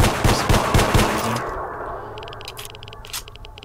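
Rapid bursts of automatic gunfire in S.T.A.L.K.E.R.: Shadow of Chernobyl, loud and dense for the first second and a half before giving way to quieter, scattered shots and clicks.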